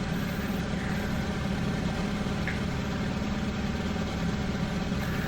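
Steady, droning engine hum from a bomber aircraft in the IL-2 1946 flight game, with overheated engines, holding an even, continuous roar with low rumble throughout and no talk.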